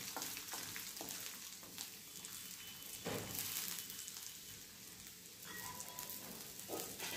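Red chilli powder fries in a pan with a constant soft sizzle and crackle, quiet and close, with occasional stirring scrapes and clinks.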